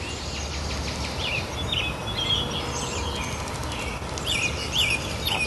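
Small birds chirp and call intermittently around a garden bird bath, quick high tweets scattered over a steady outdoor background hum, moderately close.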